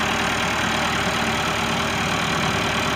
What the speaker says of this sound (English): Case 4-cylinder diesel engine.